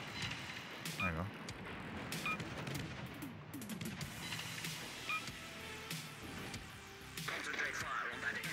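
Warship guns fire in World of Warships, giving repeated booming shots and rattling salvos in a busy game soundscape, with a person talking over the action.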